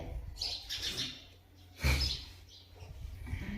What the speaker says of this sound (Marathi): घरात खुशाल चिमण्या घरात फिरते